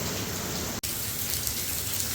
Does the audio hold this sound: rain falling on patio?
yes